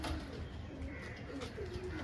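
Caged pigeons coo softly, a faint, low murmuring call heard briefly under steady background hum, with no one speaking.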